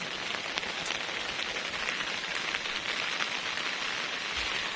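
Steady rain pours onto lush garden plants, including croton shrubs, a dense unbroken hiss of drops patters on leaves and surfaces close by, with no talk.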